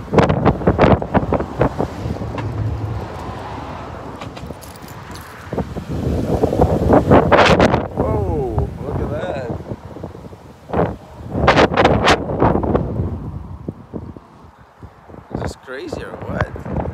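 Strong wind buffets the microphone in broad low rumbling gusts amid wildfire smoke in Portland, Oregon, with people talking over it throughout.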